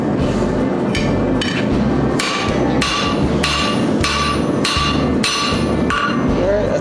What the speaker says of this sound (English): I think that's isolated enough that I can start hitting it over the anvil and really tapering that out.